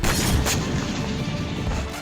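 A drone-dropped bomb explodes on a Ukrainian Challenger tank in Kursk, a sharp loud crash at the start, a second burst about half a second later, then a rough, roaring rumble trailing off.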